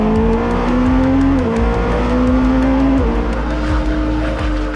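A Porsche 963 race car's twin-turbocharged V8 roars loudly at close range, climbing in pitch through the gears with sharp shifts, no voices over it.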